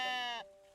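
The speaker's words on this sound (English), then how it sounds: "So we already have our sheep floating about." A single sheep bleat in a building game, loud, close and harmonic, cut off sharply partway through with a quieter tone lingering after.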